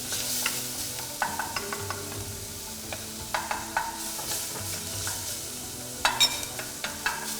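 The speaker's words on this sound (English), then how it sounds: "Then we let this saute." Ingredients sautéing in a pan for mopane worm chili sauce, a soft continuous sizzle broken by repeated scraping and clinking stirs, close and fairly quiet.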